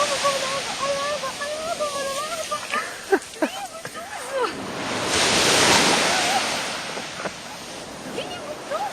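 Ocean waves on a beach, a broad rushing surf that swells midway, with wind noise and a voice talking over it.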